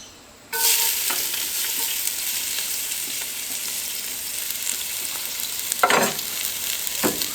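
Chopped onion hits a smoking-hot pan of mushrooms at a camp cooking setup, bursting into a loud, steady sizzle that holds throughout, with a couple of scraping stirs near the end.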